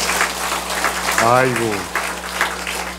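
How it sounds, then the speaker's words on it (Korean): A church congregation claps for a newlywed husband, a broad patter of hands behind a man who lets out a drawn-out exclamation midway, over a low electrical hum. "우리 큰 박수 좀 쳐주시겠습니까?"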